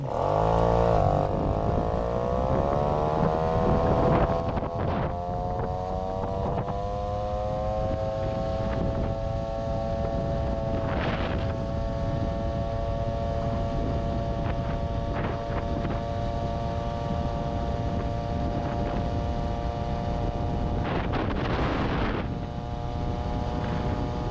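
An MBK 40V moped with a 70cc Airsal SHA 15 setup and a 3x4.5 g variator revs hard at full throttle, its engine note climbing steadily and holding a loud buzzing drone throughout, with wind noise over the microphone.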